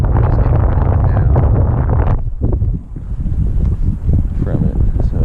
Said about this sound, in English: a bunch of wind there